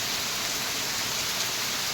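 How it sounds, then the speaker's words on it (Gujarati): Heavy rain pours down in a steady, dense hiss that fills the scene without a break. "બહુ વરસાદ પડે જોઈ શકો છો તમે."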